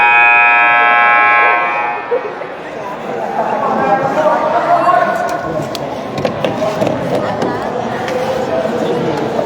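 A long, loud electronic buzzer sounds at a high school basketball game between the Tombstone Yellowjackets and the Valley Union Blue Devils, followed by gym crowd noise and an announcer talking.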